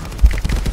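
A single close, punchy gunshot in the VR shooter Contractors VR, cut short and followed by a brief rumbling tail.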